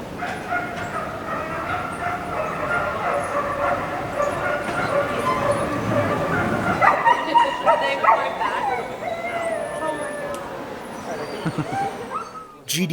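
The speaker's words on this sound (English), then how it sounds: "of barking galgos echoing across the cavernous space" Galgos, Spanish greyhounds, barking, yipping and whimpering together in a cavernous hall, a dense reverberant chorus with crowd babble, easing into sparser echoing yelps toward the end.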